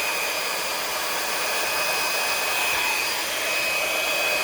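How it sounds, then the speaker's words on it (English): A larger electric blower pushes acrylic paint across a pour painting treated with cell activator, giving a steady, loud, unbroken rush of air that holds level throughout with no talking. "And I have my bigger blower, and I'm just going to"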